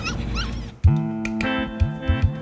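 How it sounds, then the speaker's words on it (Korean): A puppy whimpers with a series of high, whiny yips and cries, loud and close, following a brief muffled voice at the start. "하지만 그 물건은 다름 아닌 강아지였습니다."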